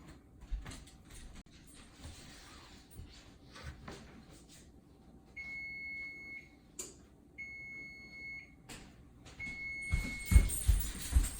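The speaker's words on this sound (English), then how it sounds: "That noise right there means the timer's gone off and that the pizza is now ready to come out of the oven" Electronic oven timer beeping in a home kitchen as homemade pizza finishes baking, three sustained high tones repeated at intervals over quiet room noise with a few clunks.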